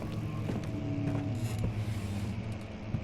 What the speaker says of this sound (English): There's just the door opening.